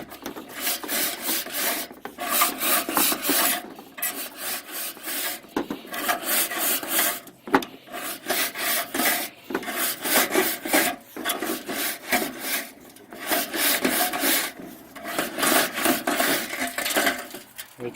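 A chimney brush scrubs back and forth inside a flue coated with creosote, giving loud, rhythmic rasping strokes with bursts of loose debris rattling down; the scraping runs continuously with brief pauses between passes.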